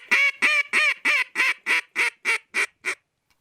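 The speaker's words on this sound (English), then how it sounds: "Let's do a little hail call first." A Zink duck call sounds a hail call, a descending series of ten loud, evenly spaced quacks, each slightly softer than the last, ending in silence.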